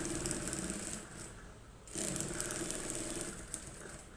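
A sewing machine stitches a shirt collar in a rapid, buzzing whir that breaks off for a moment and then resumes, heard up close with no voices.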